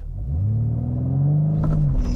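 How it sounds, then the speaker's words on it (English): A 2022 BMW M3 Competition xDrive on summer tires launches hard in Sport Plus with stability control off, its engine rumbling and rising steadily in pitch for about two seconds, heard from inside the car. "let's go ahead and see what this is like to launch."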